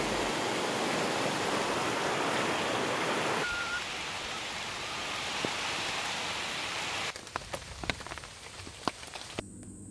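Rain falls steadily in a rainforest, a dense hiss that softens partway through, then thins into scattered individual drips and patters, with no voices.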